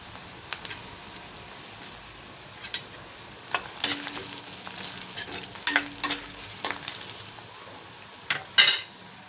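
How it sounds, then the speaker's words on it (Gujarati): Sliced carrots added to softened onions sauté in a pan, giving a quiet steady sizzle with scattered utensil scrapes and clinks that grow busier midway, plus a sharp clatter near the end, close and with no voices. "હવે નાખી દઈશું થોડાક ગાજર। હવે થોડીક વાર ગાજરને પાકવા દઈશું।"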